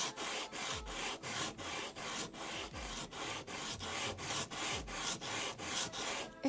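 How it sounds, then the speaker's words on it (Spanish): A handmade ceramic tile rubbed with fine 120-grit sandpaper makes steady back-and-forth rasping strokes, close and even in rhythm, roughly two strokes per second, with no talk. "Esta es una lija de grano fino."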